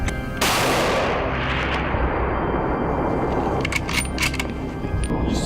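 A single sharp, loud hunting-rifle shot fired at wild boar, ringing out and decaying over a few seconds, followed by faint clicks and rustling with no talk.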